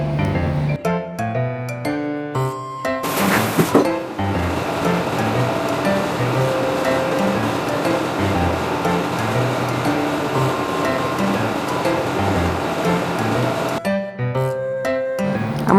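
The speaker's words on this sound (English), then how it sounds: "I'm rinsing off her shampoo" Water from a sprayer rinsing shampoo out of a Sheltie dog's coat, a steady loud rushing hiss that runs nearly unbroken, with brief clattering and tonal sounds at the start and end.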